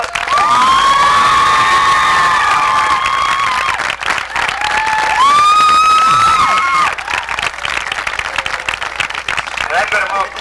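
An audience at a 1993 graduation ceremony applauds and cheers for the parents of the graduating class, with sustained loud clapping, whoops and children shouting filling a large room, and voices mixed throughout.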